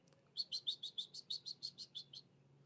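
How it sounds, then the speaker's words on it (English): A small bird gives a quick run of about a dozen bright, evenly spaced chirps outdoors, clear and fairly close, over a faint low background hum. "Can y'all hear that? Hear the birds?"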